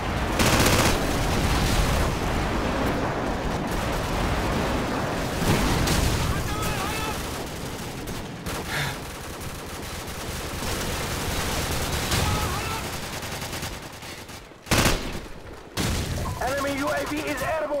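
Airstrike explosions and heavy gunfire in Call of Duty 4 Modern Warfare multiplayer team deathmatch on the Crossfire map: dense, loud, continuous rumbling blasts and rattling bursts, with brief game announcer voices over the barrage.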